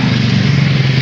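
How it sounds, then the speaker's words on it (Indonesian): A 1998 Hyundai Accent engine idling, giving a steady, smooth low hum that holds even and unbroken throughout with no voices. "Ini suara mesinnya jauh lebih halus"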